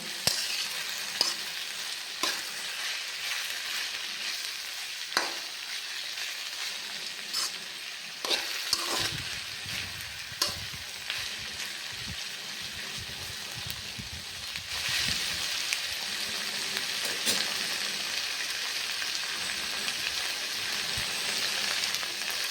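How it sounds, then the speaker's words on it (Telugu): Half a kilo of okra fries in hot oil in a pan with a steady, rain-like sizzle. Occasional scrapes and taps from stirring sit on top, growing somewhat louder toward the end, with no voices. "ఫ్రై చేస్తే మాత్రం తొందరగా అయిపోతుంది అందుకే ఫ్రై చేస్తున్నాను హాఫ్ కేజీ బెండకాయ"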